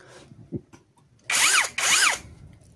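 Two short bursts from a Mukete 21V brushless cordless electric drill, each spinning up loudly with a whining motor pitch and lasting about half a second, separated by a brief gap after a faint click.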